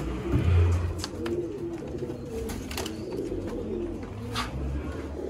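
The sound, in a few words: pigeon pairs cooing at a kabootar bazi loft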